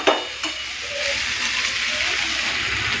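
Bitter gourd, potato and brinjal curry with fried hilsa fish head and green chillies sizzling steadily in a pan, a continuous close hiss and crackle with a brief stir clatter at the start, no voices.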